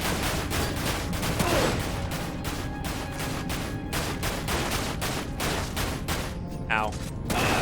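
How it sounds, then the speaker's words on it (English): Enemy gunfire in Dirge of Cerberus: Final Fantasy VII, dense continuous bursts of shots in steady rapid pulses, loud and close throughout, with game effects layered over it. "they just fire in an interval"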